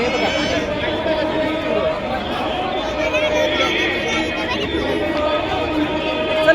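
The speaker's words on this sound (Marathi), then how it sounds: "तुम्ही बघू शकता की आरतीसाठी किती प्रचंड गर्दी झालेली सर्वीकडे बघा" A huge crowd gathered along the Godavari in Nashik for the evening aarti, producing a steady, dense babble of many voices at close range that never lets up.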